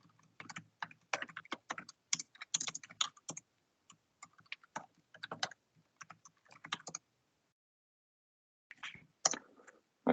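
Bursts of rapid keystrokes on a computer keyboard as a username and password are entered, close and clear, with short pauses between runs and a longer gap before a final flurry of taps.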